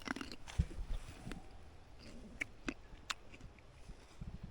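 Someone bites and chews a crunchy, not-quite-ripe muscadine grape from a backyard vine in early winter. A few quiet, close crunches and wet chewing sounds come and go against a hushed outdoor background.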